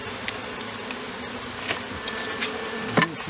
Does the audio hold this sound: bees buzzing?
yes